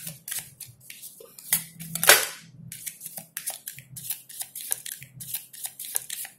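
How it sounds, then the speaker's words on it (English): A deck of tarot cards is shuffled close up, giving dense bursts of crisp papery clicks and flutters in an irregular rhythm, with one louder riffle in the middle and no talking. "I feel like I'm not done shuffling"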